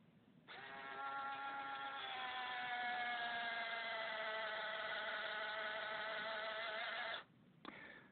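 A Turnigy 80 degree RC landing gear retract carrying a 2.45 ounce wheel runs on an Fw190 model, a steady high-pitched servo whine lasting nearly seven seconds, then a brief second buzz.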